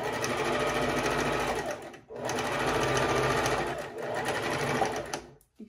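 A sewing machine stitching face mask fabric backed with interfacing runs in fast, close bursts of rapid needle clatter, pausing briefly twice between three steady runs.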